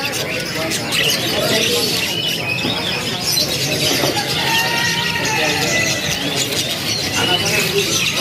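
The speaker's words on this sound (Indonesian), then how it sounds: "Kita lihat penampakan kenari seri loper yang warna cerah di yang kandang ini kan kawan." Canaries kept in cages at a bird kiosk chirp and trill in a dense, continuous chorus of bright, high calls mixed with a steady background hum.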